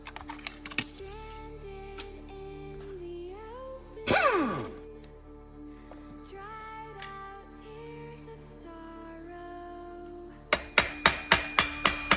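Light hammer taps ring out during the teardown of a Husqvarna 440 40cc chainsaw, with a fast burst of small taps near the end. Sparse, quiet clicks and knocks come before them.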